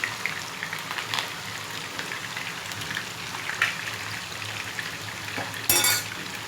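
Beef kofta fry lightly in hot oil, giving a steady dense sizzle like rain on a surface, with small pops throughout and a sharper crackle near the end, no talk.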